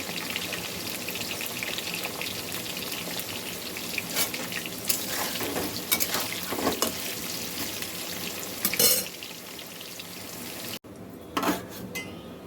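Potatoes salted and frying in a pan, giving a steady, loud sizzle with occasional stirring scrapes and clatter, cut briefly near the end and then resuming.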